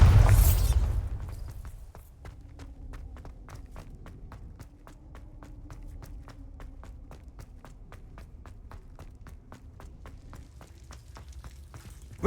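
A Bombarda spell explosion in Hogwarts Legacy bursts loudly at the start and rumbles away within a couple of seconds, followed by a long run of quick, regular footsteps.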